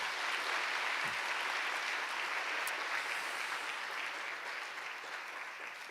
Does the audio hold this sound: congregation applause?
yes